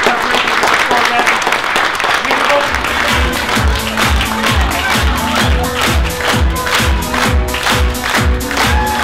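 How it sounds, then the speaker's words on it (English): Store staff at a Goodwill store and donation center grand opening in Illinois applaud together, a steady loud wash of clapping over a rhythmic music track with a pulsing low beat throughout. "everybody here in the store gives themselves a big round of applause for a great job and a great preparation"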